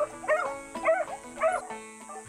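Beagle hunting dogs bark in three distinct, evenly spaced yelping barks at close range, with a fainter fourth at the end, and no talk over them.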